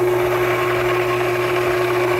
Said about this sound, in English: That's the sound of the boiling soy maker inside.